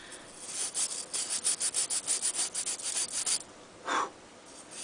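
Steel wool scrubbed back and forth over the contact points of an NES game cartridge, a rapid rhythmic run of close, raspy strokes for about three seconds, then one longer stroke after a brief pause.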